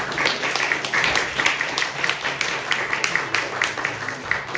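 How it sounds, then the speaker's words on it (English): Steady applause from an audience thanking brass band musicians at the close of an evening concert: dense, continuous clapping that holds at an even level throughout, close and fairly loud with no talking. "One last round of applause."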